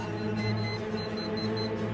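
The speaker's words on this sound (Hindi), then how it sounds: "देखिए, अलार्म अपने आप बंद हो गया।" Alarm clock going off in a hostel at night, a steady electronic ring layered with a low hum and short high beeps repeating at an even pace. Fairly loud and with no voices.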